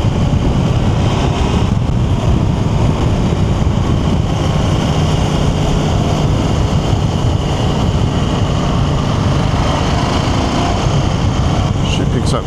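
A KTM 890 Adventure R motorcycle rides along a road, its engine drone buried under heavy, constant wind roar at the helmet microphone, loud and unbroken throughout.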